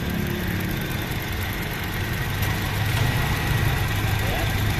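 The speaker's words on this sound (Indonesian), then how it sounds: "nggak ada suara kompresor yang ngorok, nggak ada, masih bagus semua mobil ini" A Toyota Kijang Innova engine idles steadily with the AC on, a constant low rumble and a fan-like hum, unchanging throughout.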